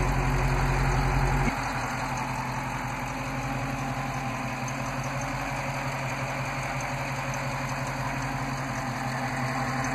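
A 2016 Dodge Challenger Scat Pack's 392 cubic inch 6.4 liter SRT Hemi V8 idles close by, a deep steady burble with a rough, pulsing rhythm after a brief louder rev at the start.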